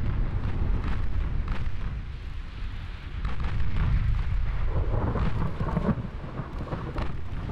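Heavy naval gunfire from 8-inch cruiser guns in Ultimate Admiral Dreadnoughts, a 1920s German fleet battle: continuous rumbling booms and thundering blasts roll on for the whole stretch, loud and dense, with no speech.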